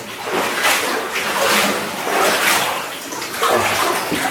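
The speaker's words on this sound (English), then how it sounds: "there's a good amount of water coming down there" Inside a mine tunnel a good amount of water runs down with a steady, loud rushing hiss that rises and falls gently throughout.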